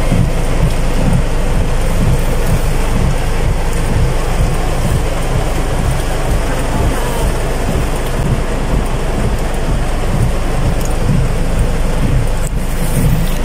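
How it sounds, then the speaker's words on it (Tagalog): Heavy rain pours down in a dense, loud, unbroken roar, with a low rumbling underneath that may be thunder, lasting throughout with no talking. "Ang lakas po ng ulan."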